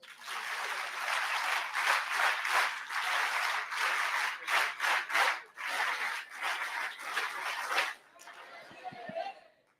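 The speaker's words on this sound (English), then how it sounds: "We want to have a NSS clap for Honorable Environment Minister of Maharashtra, Sri Pravin Darade sir." Audience at a summit clapping for the Environment Minister of Maharashtra, with a dense burst of claps lasting about eight seconds, then fading into scattered noise and a few faint sounds.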